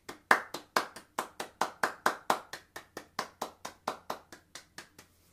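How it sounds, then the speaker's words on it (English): One person claps alone after a flute studio's student recital, about twenty evenly spaced sharp claps close to the mic, slowing and fading toward the end, in a quiet room. "enthusiastic round of applause."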